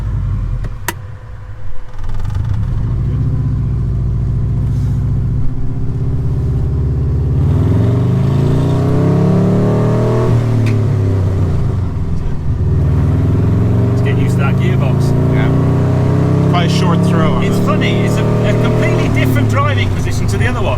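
A deep, steady Subaru flat-four engine rumble inside a 170hp Subaru-engined Fiat 500, with revs rising and falling over the drone, while people talk over it.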